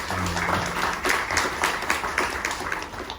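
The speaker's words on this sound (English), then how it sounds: "Let's give Rachel a round of applause." Audience applause at a panel discussion on Disney Lookout Cay at Lighthouse Point: a dense, steady wash of clapping from a seated crowd, moderately loud and continuous, with some faint voices mixed in.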